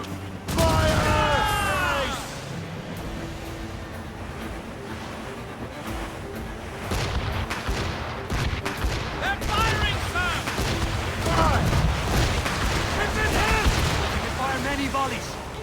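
Repeated cannon volleys from sailing ships in the Assassin's Creed Rogue naval combat game, broad booming blasts over rolling sea noise, with shouted crew voices and music-like tonal calls mixed in throughout.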